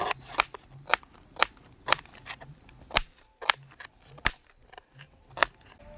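A knife chops onion on a board in a mango orchard, a series of crisp, evenly spaced cutting thuds roughly every half second, close and clear with no talk.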